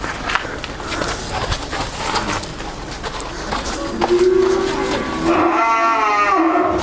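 Holstein Friesian heifers on a dairy farm low and moo, with a drawn-out call rising clearly near the end over steady barn noise and shuffling; no talk is heard.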